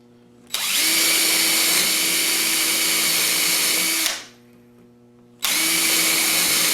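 A cordless power drill bores holes into the side panel of a DIY 30-inch upper kitchen cabinet, whirring loudly and close for about three and a half seconds, stopping briefly, then starting again.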